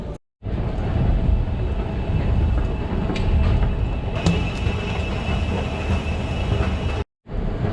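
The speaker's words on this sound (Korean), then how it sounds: "저 기차 지나가고" A train rumbles past continuously for several seconds in Frankfurt, a dense steady roar with faint metallic squeals, cutting off abruptly at the end.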